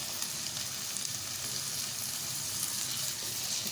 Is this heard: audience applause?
no